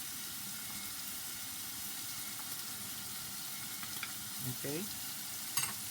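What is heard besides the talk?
seasoned chili meat sizzling and stirred in pan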